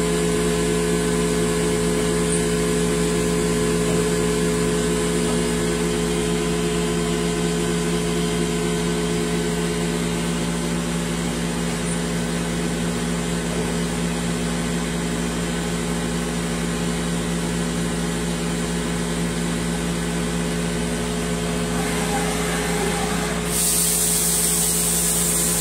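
A Mazak Integrex 200 3S CNC machine mills with a tool on its first spindle, a loud steady droning whine layered with coolant hiss that holds constant for the whole stretch, shifting briefly near the end.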